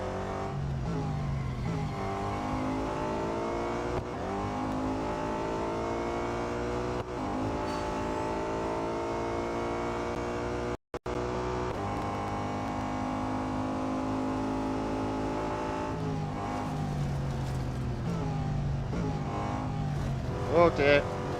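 A race car engine roars steadily throughout a final-lap race in the video game Real Racing 3, with rising and falling pitch as the car accelerates and shifts, broken by a brief cut near the middle, with talk over it.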